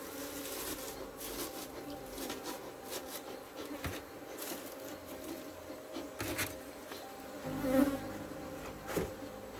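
Africanized honey bees buzz around an open hive in Trinidad, a faint, continuous hum broken by soft clicks and rustles of hive handling nearby, with no speech.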